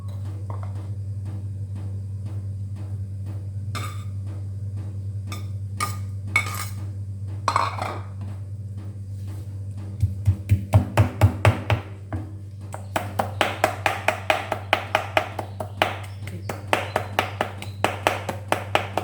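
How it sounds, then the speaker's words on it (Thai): Grilled catfish being chopped with a knife on a board for larb, a burst of quick rhythmic taps settling into a steady run of close, sharp chopping strikes over a low background hum, with no talking. "เดี๋ยวเรามาสับปลากันเลยนะครับ"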